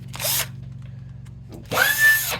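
Two short bursts of a Bosch power drill whirring, close and loud, separated by a brief pause with low hum underneath.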